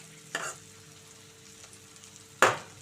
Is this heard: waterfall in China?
no